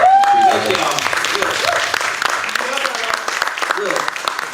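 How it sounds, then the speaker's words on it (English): Audience applause at a talk show, a spread of clapping and cheering with a voice shouting over it at the start and people talking through it. "let's give this man a round of applause."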